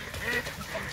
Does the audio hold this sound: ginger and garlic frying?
no